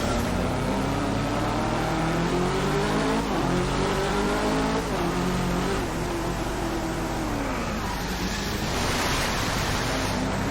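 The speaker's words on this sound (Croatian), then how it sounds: "To je bio dobar drift." A car drifting with its engine revving hard, a loud continuous motor whine whose pitch climbs and drops, backed by heavy tire and wind noise.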